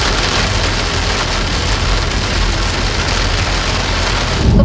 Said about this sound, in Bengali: তো বেরিয়েও দেখলাম নন স্টপ বৃষ্টি পড়েই চলেছে